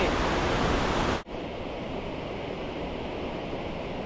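Palepas Falls in Alamada, North Cotabato, gives a loud, steady roar of falling water that continues close to the microphone, with a sudden drop in level partway through and no talking.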